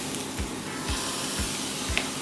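Close, steady hiss of taco meat sizzling on a hot griddle, with soft periodic thumps underneath and no talking.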